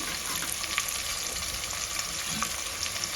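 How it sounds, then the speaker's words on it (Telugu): Onions frying in a seasoned oil tempering for sambar, a steady, bright sizzle heard close, with faint pops and stirring scrapes throughout. "ఆనియన్స్ అయితే వేసుకోవాలా పోపు వేగింది"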